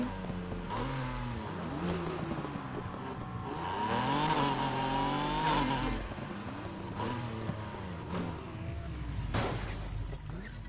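A Mazda Miata engine in Need for Speed Heat revs with rising and falling harmonic tones, steady and fairly close, swelling louder mid-clip with a brief sharper burst near the end.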